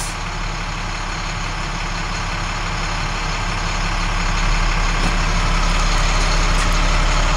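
A DT-466 diesel work truck with 150,000 miles idles close by in a loud, steady low rumble that holds unbroken throughout.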